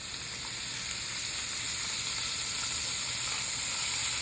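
Food browns in a pan during a braise, with butter and flour nearby, giving a steady, close, dense sizzle and hiss that holds evenly throughout with no talking.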